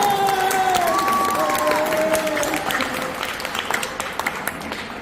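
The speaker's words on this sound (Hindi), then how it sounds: "एक बार जोरदार ताली बजाएं" Loud applause from the audience at a birthday celebration held by a foundation for a cabinet minister, dense and sustained at first, then thinning into scattered claps, with faint voices and tonal sounds mixed in.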